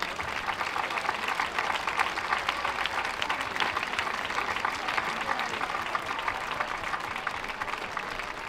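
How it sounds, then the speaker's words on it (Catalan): Steady crowd applause for volunteers at the handover ceremony proclaiming Sant Climent de Llobregat as Ciutat Gegantera, sustained and even at moderate distance, with no voices over it. "voldré demanar un fort aplaudiment per a aquests voluntaris i voluntàries"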